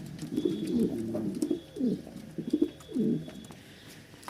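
Pigeons at a pigeon farm in Rajshahi coo nearby in a series of soft, throaty calls, several distinct coos rising and falling over faint background noise.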